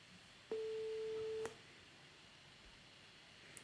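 A single steady electronic beep tone from a coding video game, pure and even, sounding for about one second at moderate volume over faint background hiss, with no talk.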